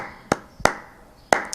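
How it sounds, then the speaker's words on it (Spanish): Three sharp, close flamenco palmas handclaps ring out in an uneven beat, with a fainter fourth at the end, each crisp and distinct against a quiet room. "Estas típicas palmas que conocemos del flamenco"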